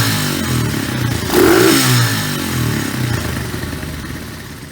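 A pit bike engine revs hard with the carburetor jets changed, the revs rising sharply to a rasping peak before settling back to a loud, steady running drone.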